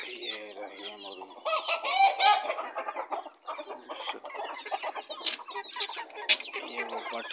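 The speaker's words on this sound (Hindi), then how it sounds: "ये रही है मुर्गी।" A hen clucking close by in a farmyard, repeated short calls over several seconds alongside other poultry, with a brief louder squawk near the end.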